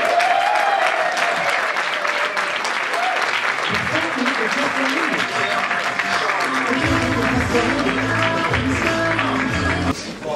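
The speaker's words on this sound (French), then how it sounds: "Je vous demande d'applaudir et d'encourager Johan Yangting" Sustained audience applause fills a conference room of about 300 people in Paris, steady and loud throughout, with some crowd voices and cheering mixed in toward the end.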